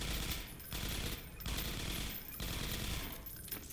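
Gunfire in Half-Life 2: Episode 1, rapid automatic bursts in several rhythmic volleys, each a dense rattle separated by brief gaps, fairly quiet overall and with no voices.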